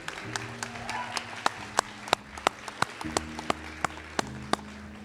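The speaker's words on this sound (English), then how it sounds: "Round of applause for this great group here." Applause at a nursing college white coat ceremony, sharp individual claps ringing out over a sustained musical or organ-like tone, moderately loud and steady.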